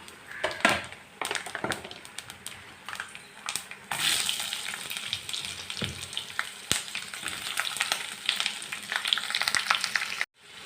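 Onions hit hot oil with browned coconut pieces while cooking clam meat fry, giving an uneven crackling sizzle with stirring scrapes and knocks before a brief break near the end.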